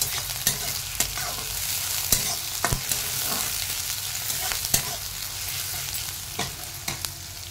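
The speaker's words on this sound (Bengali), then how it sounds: "একটু হালকা ভাজা করবো পেঁয়াজটাকে" Onion frying lightly in a pan, a steady close sizzle punctuated by regular scraping and clicking of a spatula stirring against the metal.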